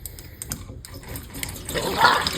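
Distilled vinegar and water pour into a rusty motorcycle gas tank, a continuous splashing, gurgling flow that swells louder toward the end, close by with no talking.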